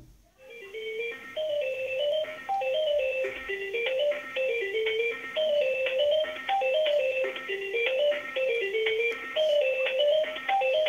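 A mobile phone ringing from an incoming call, a bright melodic ringtone with a repeating tune that loops steadily and loudly, with no talking over it.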